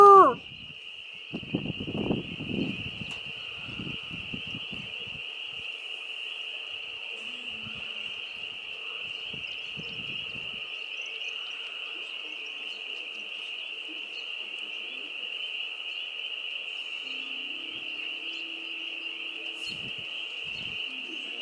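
A spring night chorus of frogs forms a steady, high, unbroken trill that runs throughout, with a few close handling bumps and a brief voice near the start, then the chorus continues alone at an even level.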